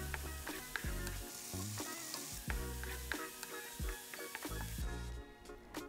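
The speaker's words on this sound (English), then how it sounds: "Pour in the whisked egg mixture to the oiled pan and scramble the eggs until they're cooked." Whisked egg mixture sizzling in an oiled pan while being scrambled for a noodle stir fry, a quiet steady fry punctuated by repeated spatula scrapes and clinks against the pan.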